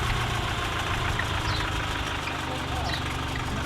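A 2004 Nissan X-Trail T30 diesel engine idles steadily after a diesel runaway, a dense continuous rumble close by, with voices under it.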